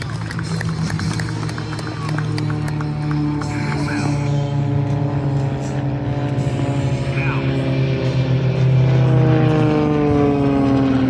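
Northern Stars aerobatic aircraft performing at the 2024 Owensboro Air Show produce a loud, steady engine drone that rises in pitch as they pass, with crowd noise beneath and no talk.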